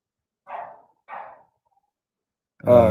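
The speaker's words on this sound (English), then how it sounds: "Can you hear the dog barking?" Two separate barks from a dog, clear but slightly distant, spaced about half a second apart, with a brief burst of other sound at the very end.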